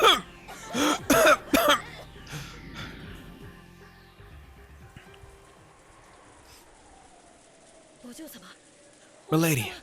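Several harsh, loud coughs burst out in quick succession at the start, followed by quieter rasping and strained breathing, then another coughing fit at the end.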